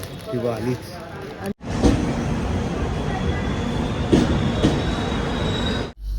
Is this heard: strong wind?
no